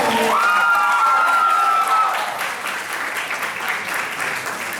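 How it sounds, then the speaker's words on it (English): An audience at a Model United Nations conference gives a round of applause, full and loud at first over a brief ringing tone, then thinning slightly and continuing as lighter clapping with scattered cheers. "can you please have a round of applause?"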